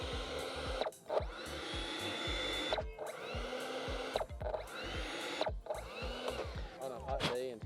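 An electric ducted fan in an FMS 64mm F-16 Fighting Falcon model jet spins up and down repeatedly, a whining whoosh with rising and falling pitch, close and fairly loud, pausing briefly between bursts.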